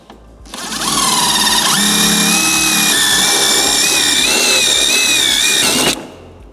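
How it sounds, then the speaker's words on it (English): A power drill bores a hole through a 1998–2013 Harley-Davidson Street Glide motorcycle for speaker wire, a loud steady whine that rises in pitch after spinning up and holds for about five seconds before stopping, with no talk over it. "we're going to drill a hole for the speaker wire"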